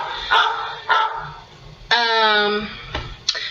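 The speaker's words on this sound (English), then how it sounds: "instant messages are a dog barking." A phone alert sounding as a dog barking: a few sharp recorded barks and a yip in quick succession, fairly close, without speech.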